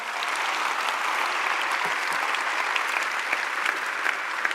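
A church congregation applauds during a sermon, a loud, even roar of many hands clapping that holds steady throughout with a few sharper claps poking through near the end.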